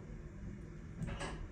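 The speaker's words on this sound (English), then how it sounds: "Doors opening." Doors of an Otis Gen2 elevator at a TK Maxx store in Beckton slide open, a faint rumbling slide that swells briefly over a low hum of machinery, with no speech.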